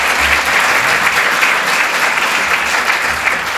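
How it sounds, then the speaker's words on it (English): Sustained applause from an audience at a community talk on building resilient communities, steady and dense throughout with no voices over it. "A round of applause."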